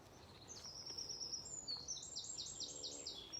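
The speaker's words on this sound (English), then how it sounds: "everything's still quiet, save for the birds, and the birds are welcome to make their sounds" Small birds singing during a quiet mindful nature walk, with repeated high chirps and trills that quicken toward the end. The song is faint and somewhat distant over a calm outdoor background, with no talking.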